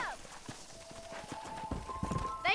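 Horse hooves clip-clop in a steady walking rhythm, close and moderately loud, from a mount ridden in the Red Dead Redemption video game, with brief voices at the very start and end.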